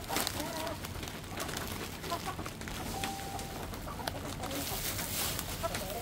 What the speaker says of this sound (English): These chickens are something else, man.